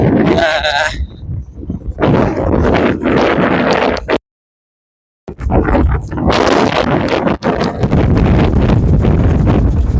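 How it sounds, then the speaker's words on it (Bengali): Strong wind buffets the microphone in loud, roaring gusts, with a brief total dropout in the middle and muffled speech-like sounds mixed in. "হাওয়া খুবই তেজ"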